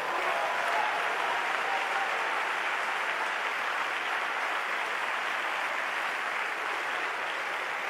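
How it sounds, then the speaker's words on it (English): A large congregation at a church revival conference claps together in a continuous, dense wash of applause, steady and even in level, with no speech over it. "Stand up and clap your hands"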